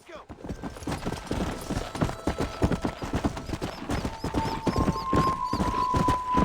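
Horse hooves clip-clopping at a brisk, steady gallop in the Red Dead Redemption video game, loud and close, with a long tonal game sound entering midway.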